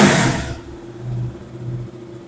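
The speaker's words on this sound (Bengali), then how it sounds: "ওয়াও, এক সেলফে গাড়ি স্টার্ট" A KTM RC200 BS4 motorcycle starts with a loud burst, then settles into a low idle that swells in two gentle revs, heard close in a showroom.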